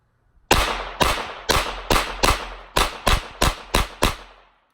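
On a shooting range, a piece of wood takes about nine sharp, loud gunshots in a fairly steady rapid rhythm, each crack trailing a brief echo before the next.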